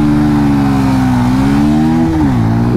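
Bajaj Pulsar 125 motorcycle launching hard in a drag race against a Honda SP Shine 125: a loud, close engine note climbs steadily through the revs, dips briefly at a gear change, then pulls up again, with no talk.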